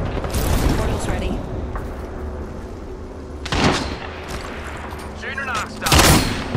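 An enemy airstrike in Apex Legends lands as a run of heavy booms and gunfire bursts, loud and close, with several sharp blasts spread across the clip amid constant battle noise and a voice talking over it.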